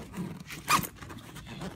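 A golf bag's pocket zipper is pulled open in one quick, close scrape, standing out alone against a quiet room.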